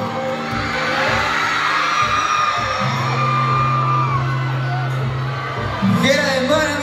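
A large concert crowd in Monterrey at an indoor auditorium show by a pop group screams and cheers loudly and continuously, a dense roar of many voices with sustained sung or yelled tones throughout.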